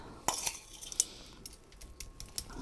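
A metal spoon clinks and scrapes against a pot while a plant is being potted, several sharp close chinks and lighter scratchy scrapes spread unevenly over a quiet background.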